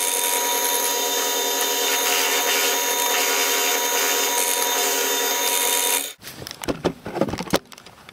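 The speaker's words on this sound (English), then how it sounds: "I'm going to go drill it up." A drill press bores into a bottle stopper made of glow resin and stabilized reishi mushroom, a steady loud whining drone for about six seconds, then cutting off into scattered clatter and handling noises.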